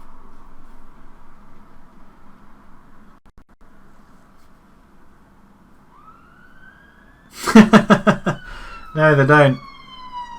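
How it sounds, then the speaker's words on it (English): Emergency vehicle sirens wail outside at night, rising in a long sweep and then bursting into loud, close warbling blasts during the last few seconds, with a quiet voice talking in the background. "There's an ambulance. A lot of sirens going out tonight as well."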